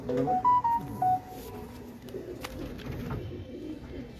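Pigeons coo in short rounded calls near the start, with a few brief higher tones, then softer rustling and background noise carry on.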